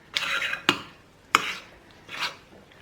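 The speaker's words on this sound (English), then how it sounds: "So just mix that in. I've got the smallest spoon here." A small spoon scrapes and stirs homemade pizza dough in a bowl, giving a few close, distinct scraping strokes with brief gaps between them.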